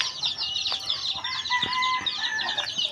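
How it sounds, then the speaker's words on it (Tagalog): Chickens and small chicks cluck and cheep continuously at a rural backyard coop during feeding, a busy, fairly close chorus of overlapping calls with no talking. "Siyapan ng mga sisiw."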